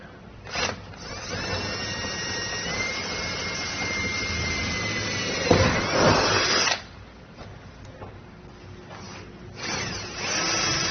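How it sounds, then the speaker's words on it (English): A power drill boring up through a thin camper trailer roof, a steady whining run of several seconds, a louder surge, then a pause before the drill starts again. "I'm going to go and drill straight up through the roof in the 4 corners"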